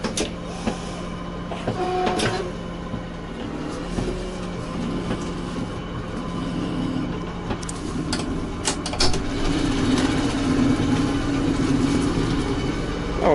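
A hot Kirovets K-525 tractor runs steadily at work with its implement raised, a continuous close engine drone with clattering mechanical rattles and ticks, growing slightly louder and rougher toward the end.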